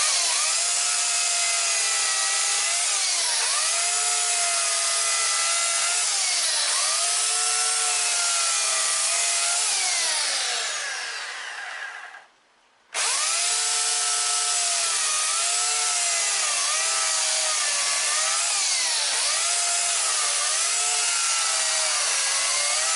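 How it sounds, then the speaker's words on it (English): A Titan TTB355CHN electric chainsaw runs loud and steady as it cuts through wood, its whining buzz sagging under load, cutting out briefly near the middle, then roaring straight back for a second long cut. "So as you can see, this chainsaw does a pretty decent job."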